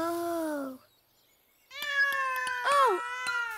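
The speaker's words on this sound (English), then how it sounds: "Oh, it's a baby cat." A cartoon kitten hiding in a bush meows nearby, two high, plaintive cries separated by a brief silence, the second wavering and sliding down in pitch.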